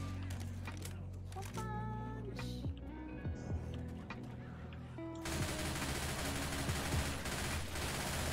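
Gunfire while shooting through an infected mall in a video game, bursts of shots layered with game music and effects, with a voice talking throughout.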